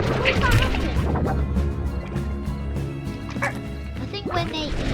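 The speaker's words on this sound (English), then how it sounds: "There's another dog." A dog barks repeatedly in the video game Slime Rancher, yapping amid a dense clutter of in-game crashes, thuds and effects, with players' voices mixed in.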